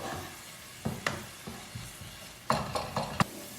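Onion and green bell pepper sizzle softly in a pan while a utensil stirs them, giving a quiet continuous fry broken by several sharp scrapes and clacks against the pan, with no voices.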